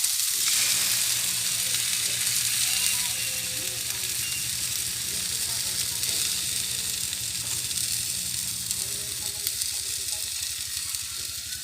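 Egg and tomatoes fry together in a pan, giving a steady, loud sizzle with crackling hiss that runs throughout and eases slightly toward the end, with no talk over it.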